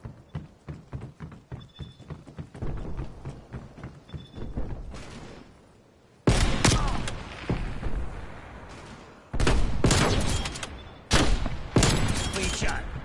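Gunfire in the Black Ops Cold War video game: a run of rapid shots early on gives way to louder, dense bursts of automatic fire that start and stop abruptly in several blocks.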